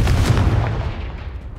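In Hogwarts Legacy, the Confringo blast spell bursts with a loud, deep boom. A rumbling roar follows and fades out over about a second and a half.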